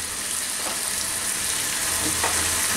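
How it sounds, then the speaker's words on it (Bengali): Fried chicken pieces go into a hot pan for Bangladeshi-style dragon chicken, producing a continuous close sizzle with occasional stirring scrapes, steady and unbroken by speech. "এখন এর মধ্যে ভাজা মুরগিগুলা দিয়ে দিব"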